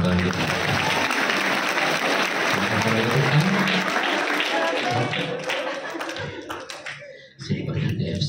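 A crowd claps loudly and continuously at a motivational event in an Islamic boarding school, dense applause that thins toward the end before a final burst, with voices mixed in.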